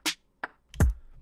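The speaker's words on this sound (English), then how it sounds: "just by itself, the IOTA drums sound like this" A few sparse hits from the IOTA Drums plugin sound alone in a short, dry pattern: a crisp hat-like tick, a lighter tap, then a deeper thumping kick, close and clean.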